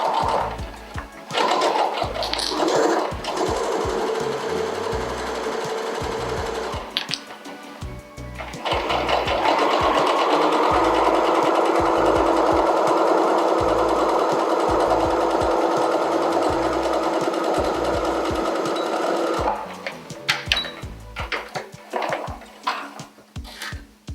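A sewing machine runs in long, steady bursts while stitching a curved seam joining the base of a slipper boot to its upper, a close, loud whirring hum with brief stops and restarts.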